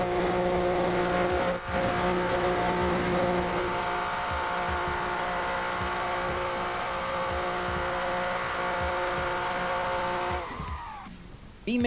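A video-game car spins donuts, its engine droning steadily with a layered tonal whine and a scrubbing tire squeal, ending in a short burst of harsher noise.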